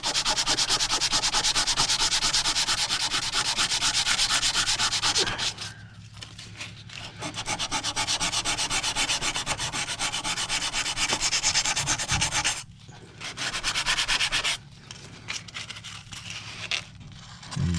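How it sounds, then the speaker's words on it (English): Steady, rapid sanding rasps against a hard surface in horizontal back-and-forth strokes, loud and close, pausing briefly a few times before resuming. "now we're sanding in a horizontal, we only want to see horizontal lines."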